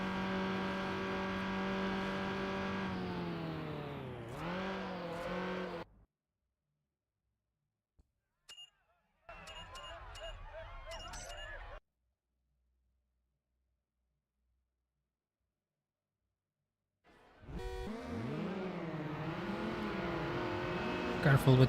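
Racing game car engines from Need for Speed Underground, a Honda Civic among the traffic, revving with rising and falling gear shifts, then cutting to silence for several seconds before the engine roar returns loud and close.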